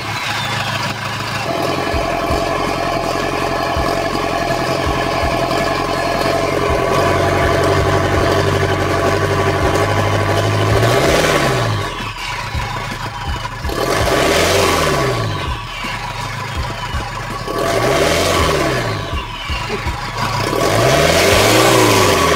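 A tuned Toyota Fortuner with a 1KD-FTV diesel engine making about 454 wheel horsepower idles with a steady loud rumble, then revs hard in four rising and falling bursts, close up with no talking.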